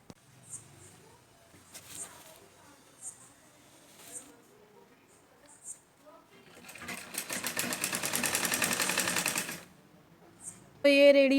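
A sewing machine stitches the full seam of a blouse, with a few short, faint bursts of stitching followed by one long, loud, steady run of several seconds. Light talk can be heard in the background.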